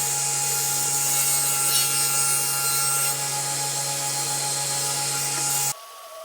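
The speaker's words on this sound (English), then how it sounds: "Now that I have the body of the case assembled, I can start to cut the shelves." A saw works through wooden shelf boards for a built-in closet case, a sustained steady whine with a constant tone that runs for several seconds and then cuts off abruptly near the end, heard close and without speech.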